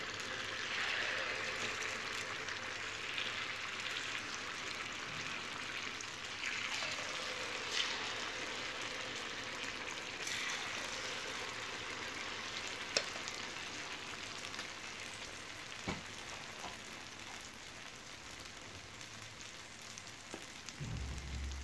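Paniyaram batter frying in hot oil in an iron pan, a steady sizzling crackle that holds throughout at moderate level with occasional small pops, no talking.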